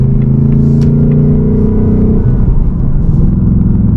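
A 2024 Ford Mustang GT, seventh generation, cruising on the highway, with a loud, steady low engine drone and road rumble inside the cabin and a slight shift in tone partway through.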